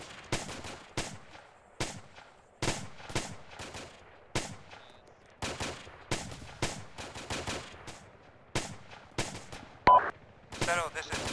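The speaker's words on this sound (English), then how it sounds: "suppressive fire, go!" Gunfire in the video game Arma 2 during a suppressive fire order, repeated sharp bursts and single shots cracking at irregular intervals over about eleven seconds, some louder and closer than others.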